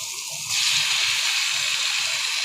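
Soybean chunks tipped into a pan of fried potatoes set off a sudden loud, steady hiss and sizzle that rises at once and holds at full strength, close by.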